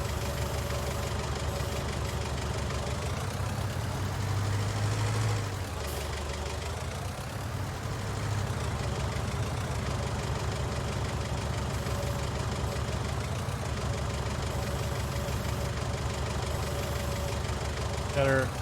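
A forklift engine idles in Farming Simulator 19, a steady low rumble that holds throughout with a slight shift partway through.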